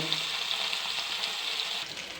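Fish frying in a pan gives a steady bright sizzle, an even hiss that continues unbroken for a couple of seconds with no speech.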